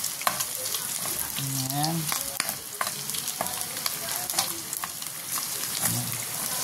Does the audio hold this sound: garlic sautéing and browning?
yes